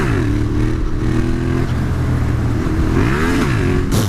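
A Yamaha MT-07 motorcycle revs hard during a wheelie attempt with the clutch released badly. The engine note is loud and close and runs continuously, its pitch climbing, holding, then dipping and rising again.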